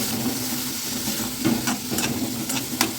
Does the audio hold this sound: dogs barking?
no